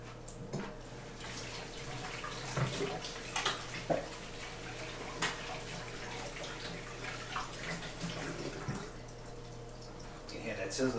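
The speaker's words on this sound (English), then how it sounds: "I'll wash my hands real quick." Hands being washed under a running kitchen tap during cooking: a steady close stream of water with small splashes and irregular sloshing, continuous throughout with a faint low hum underneath.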